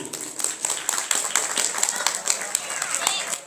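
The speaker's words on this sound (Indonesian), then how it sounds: "Beri tepuk tangan yang gemuruh." Audience clapping at a school speech competition, a steady patter of many hands with sharp, dense taps running throughout at moderate loudness.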